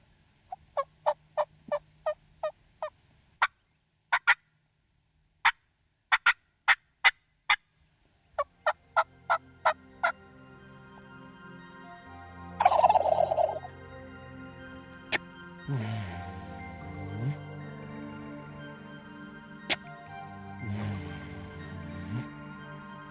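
Wild turkeys in the Georgia woods on opening day of a hunt: a quick series of sharp clicking pops, then a few loud rattling gobbles from fairly near, and later softer low calls over quiet ambience.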